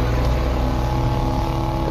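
A truck cruising through a desert, heard as a steady, loud low engine rumble with broadband road and wind noise, continuous throughout with no talking.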